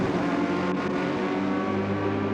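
A Porsche race car in a racing video game drops down through the gears into first for a sharp, hard-braking left-hander at Sardegna, giving a loud, steady engine roar with harmonic tones that stays up close throughout, no voices.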